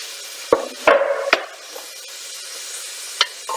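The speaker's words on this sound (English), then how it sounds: "Give that a stir." A spoon stirs chunky carrots into a pot of yellow split pea soup with ham, giving several sharp scraping clacks against the pot and a soft sizzle between them, close and clear, with no voices.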